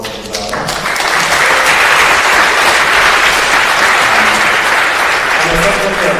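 Audience applause for a speaker at a KDE conference talk, a loud sustained burst of many hands clapping that rises quickly and holds for several seconds, with a voice briefly heard at the start.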